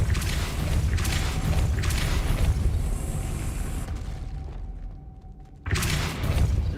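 Booming bursts of the Depulso force spell in Hogwarts Legacy, heavy thumping blasts near the start and again near the end over a loud rumbling game backdrop.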